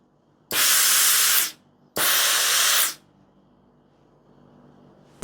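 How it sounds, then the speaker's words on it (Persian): A steam iron held above velvet fabric gives two loud, broad hissing blasts of about a second each, separated by a short gap, then quiet room tone. "ببینین از بالا دارم بخار میدم"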